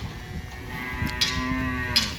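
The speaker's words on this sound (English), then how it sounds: "It's one of Mom's cows staked out." A tethered calf moos in a long, drawn-out call, close and clear, on a rural beach property in the Philippines, with no talk over it.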